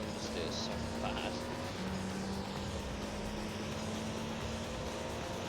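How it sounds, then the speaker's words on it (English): A race car in Gran Turismo 3 throws up water spray on a wet track, giving a loud, continuous jet-like roar over a steady engine tone, with no talking. "The water spray also sounds like a bloody jet engine."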